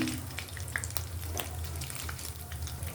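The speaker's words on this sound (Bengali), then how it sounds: "গোটা গরম মশলা তেজপাতা শুকনো লঙ্কা ফোড়ন দিয়ে দিলাম" Whole garam masala, bay leaf and dried chilli crackle and sizzle as they hit hot oil in a pan, a steady frying hiss with small pops throughout, close and continuous with no voices.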